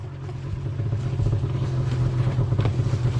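A low-hour snowmobile runs while sitting in deep powder snow, giving a steady, close, low engine drone with a rough, rumbling texture throughout.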